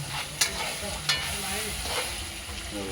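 Chicken with spices cooking in a wok, frying with a continuous sizzle while a utensil stirs and scrapes, two sharp clinks near the start, close and steady throughout.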